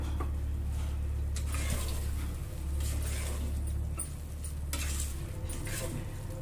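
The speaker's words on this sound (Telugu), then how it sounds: "ఇప్పుడు ఈ ప్రాన్స్ మొత్తం ఇందులోకి వేసుకునేసి చక్కగా మనం కలిపేసుకుందామండి" Prawns stirred into a masala in a pressure cooker while making prawn pulao: a steady scraping stir with a low sizzle and occasional light metal clinks, close and continuous without talk.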